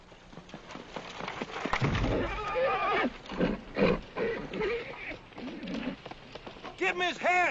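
A horse on a Palo Alto farm gives a loud, rising-and-falling whinny near the end, after several seconds of shouting voices and commotion.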